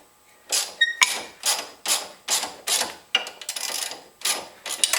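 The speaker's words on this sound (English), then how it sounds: "Now you can tighten this nut up to a certain extent before the inner bolt starts spinning." Repeated ratcheting clicks from a wrench tightening the nut on a front shock absorber of a 2010 Mazda3, coming in about nine quick close bursts with brief pauses between them.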